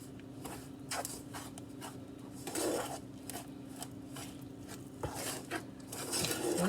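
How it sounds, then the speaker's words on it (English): Banana bread batter with eggs stirred in a bowl, a utensil scraping and knocking against the sides in a steady rhythm of clinks and rubs, close by with no talking. "now we're gonna really be able to mix it better now"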